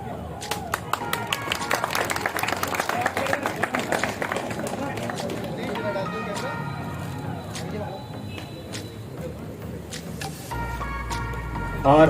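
Audience clapping at a gym bodybuilding competition, a dense burst of applause from the crowd early on that thins into scattered claps, while an announcer keeps talking over it on a loudspeaker.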